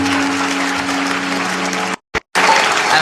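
Congregation at a live Christian worship service breaking into broad, loud applause that fills the space, briefly cut off by near-silence before the clapping resumes.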